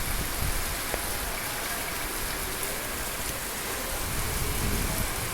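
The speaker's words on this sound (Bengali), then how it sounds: "আকাশটা পুরো মেঘাচ্ছন্ন এবং বাহির প্রচুর বৃষ্টি" Heavy rain falling outdoors on a dark, fully overcast day, a dense, loud, unbroken hiss of downpour and drops striking surfaces, with no voices.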